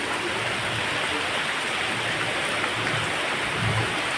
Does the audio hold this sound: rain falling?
yes